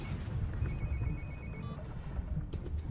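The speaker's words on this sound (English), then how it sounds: "Pick up the phone. It's going to be interesting for you." A telephone rings in a Moscow park setting in 1994, a repeating electronic ring pattern in two bursts over steady background noise, fairly loud and without talk.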